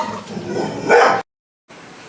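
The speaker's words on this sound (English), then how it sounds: "Dog barking." A dog barks indoors, one short, loud, close bark rising into a yelp before cutting off, followed by near silence.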